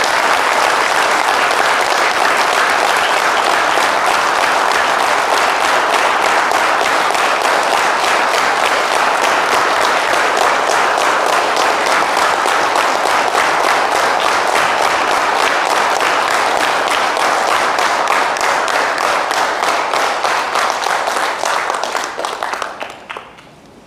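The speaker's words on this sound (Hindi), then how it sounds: "जोरदार तालियां होनी चाहिए इस बेहतरीन कपल के लिए।" Loud, sustained audience applause at a Hindi seminar honouring a couple, dense continuous clapping that holds for over twenty seconds before cutting off abruptly at the end.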